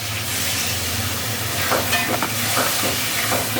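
Fish head sizzling and frying in a pan of cooked-down spices, with a splash of water added, giving a steady close hiss with scattered crackles and stirring scrapes.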